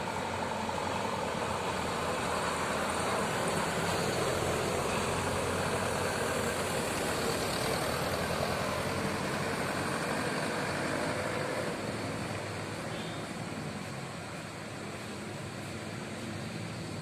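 Buses sit idling inside the Tasikmalaya bus terminal on a busy morning, their engines producing a steady, close, broadband rumble that lightens slightly near the end, with no voices heard.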